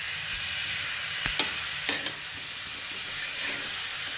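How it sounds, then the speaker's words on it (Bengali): About a kilo of chicken fries in a pan, a continuous hissing sizzle with several sharp spatula scrapes and clanks as the meat is stirred, no speech. "মাংসটাকে এবার ভাজছি।"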